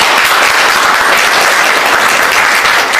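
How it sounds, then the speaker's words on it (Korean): An indoor audience at a Korean civic media organization's annual general meeting claps steadily, a dense, loud round of applause welcoming an arriving guest. "큰 박수로 반갑습니다."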